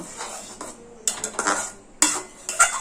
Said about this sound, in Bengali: আদা খুব ভালোভাবে চাটনির সঙ্গে মিশিয়ে দিলাম।